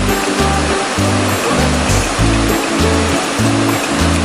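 Water pouring down at Tad Ton waterfall in a natural setting, a steady full roar of rushing stream that stays loud and continuous throughout, with low rumbling pulses underneath.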